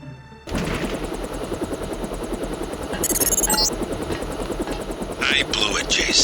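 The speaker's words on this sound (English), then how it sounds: "Time to see if this stealth copter is worth all the fuss." A stealth helicopter in the game Deus Ex starts up abruptly and whirs loudly and continuously, rotor chop steady with brief bursts of harsher noise above it.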